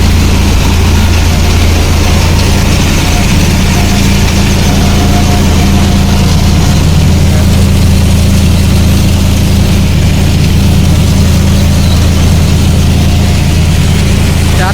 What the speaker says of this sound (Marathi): खाली कन्व्हेयर बेल्ट आहे, कसली मोठी मोटर आहे का मित्रांनो बघा